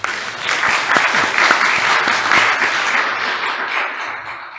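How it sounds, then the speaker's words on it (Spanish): An audience at a lecture on evidence in criminal proceedings breaks into loud, sustained applause, a dense wash of many hands clapping that gradually eases off. "Vamos a recibirlo con un fuerte aplauso, profesor."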